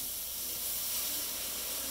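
Liquid poured into a hot roux for Cajun pork chops gives off a steady, loud steaming hiss that holds evenly for about two seconds, with no voices over it.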